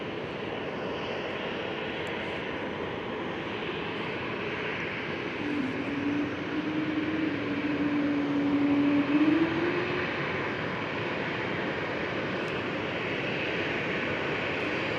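Transavia Boeing 737 jet at Schiphol, a distant engine roar rising slowly to a soft peak and fading under a steady broadband rumble of airport wind and background noise.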